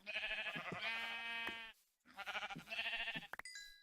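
Sheep in a video game bleat loudly and close by, with two long wavering calls separated by a brief pause and a short chime-like tone at the end.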